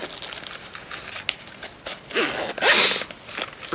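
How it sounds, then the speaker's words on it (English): A small zippered case is zipped shut with a few scratchy pulls, the last long zip loud and close, accompanied by faint handling rustles. "Just zip it up."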